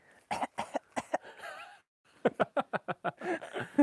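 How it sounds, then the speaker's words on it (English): A broken rubber chicken toy with a damaged squeaker gives a series of short, raspy, cough-like bursts, two clusters of quick repeated honks close by with a brief pause between them. "they broke the chicken's squeaker"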